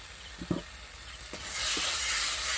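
Beaten eggs are poured into hot oil with mustard paste in the pan. A few soft knocks come first, then a loud, steady sizzle swells from about halfway and keeps hissing close by.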